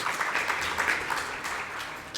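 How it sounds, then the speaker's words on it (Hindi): Audience applause at a Jain monk's religious discourse in Chhatarpur, a steady wash of many hands clapping at moderate volume throughout, with no talk over it. "ताली नहीं बजाओगे इस बात पे?"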